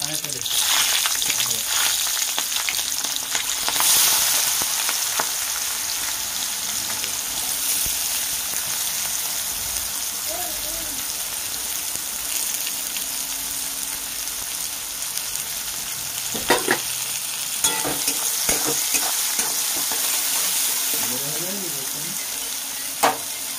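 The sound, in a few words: onions frying in a pan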